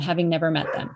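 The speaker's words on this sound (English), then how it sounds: "And pardon the dog barking." A dog barks several times in quick succession, close by and loud, partly over a person talking.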